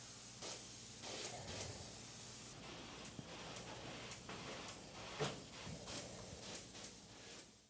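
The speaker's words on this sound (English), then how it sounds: "He told me he sprayed about 4 inches on the rim joists and overhangs and 2 inches across the rest of the ceiling." Spray foam insulation is sprayed onto a ceiling, rim joists and overhangs, a continuous close hiss with rhythmic surges as the spray gun sweeps back and forth, with no voices.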